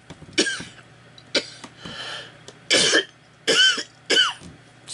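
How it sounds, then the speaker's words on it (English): Several separate coughs break out one after another, close and fairly loud, with short quiet gaps between them and no talking. "guess I got kind of a cough"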